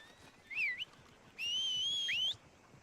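Two sharp, high whistles for a horse in Red Dead Redemption 2: a short rising-falling note, then a longer sustained whistle that swoops upward at the end, loud over a quiet outdoor background.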